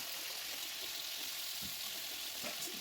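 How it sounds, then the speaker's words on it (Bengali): Chicken pieces frying lightly in a pan for a green begumati chicken, giving a soft, even sizzle heard up close, with a few faint stirring scrapes and no speech. "এবার চিকেন কটা একটু ভেজে নেব হালকা করে একটু ভেজে নেব"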